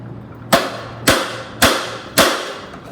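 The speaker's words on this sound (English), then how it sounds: "we're going to do the two hammer method maybe" Hammers strike the flywheel of a crusty old motor on a barn-find Baja Warrior, four sharp metallic blows evenly spaced about half a second apart, close and loud over a faint background hum.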